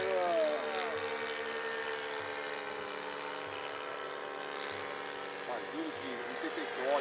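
A small model airplane engine in a Cessna model drones steadily throughout, a buzzing whine with pitch shifts, while people talk nearby over it at a model aircraft field in Ourinhos, São Paulo.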